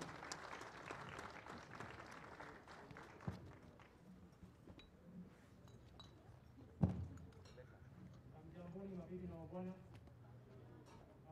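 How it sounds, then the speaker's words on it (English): Clapping from a crowd at a WRC Safari Rally launch event fills the opening seconds, then fades out as a person begins speaking, with a sharp thump partway through. "Round of applause."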